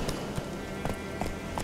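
A horse galloping in The Witcher 3 video game, a quick run of rhythmic hoof clip-clops over a dense game soundscape, steady and fairly close, with no talk over it.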